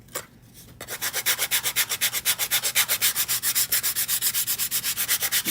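Sandpaper rubbed by hand over a wooden piece, steady rhythmic back-and-forth strokes, close and fairly loud after a brief quiet start, with no voices.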